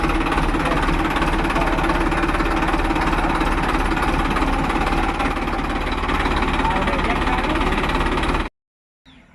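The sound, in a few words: tractor engine running in a muddy field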